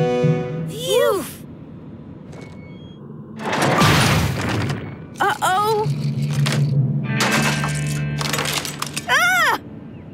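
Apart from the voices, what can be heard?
toy block rocket crashing and breaking apart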